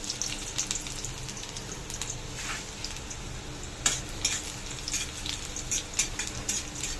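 Garlic frying in hot oil in a pan for a sour carambola dish, a steady soft sizzle and crackle with faint clinks of a spatula or utensil against the pan throughout.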